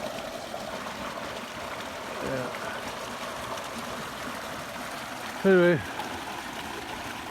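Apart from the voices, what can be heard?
creek water flowing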